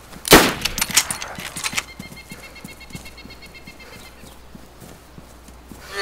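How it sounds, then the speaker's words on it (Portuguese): A loud, close gunshot cracks out at a zombie in the survival game DayZ, followed by a rapid run of sharp reports and then a steady, fainter rhythmic ticking with a faint hum. "Tá atirando no zumbi, cara."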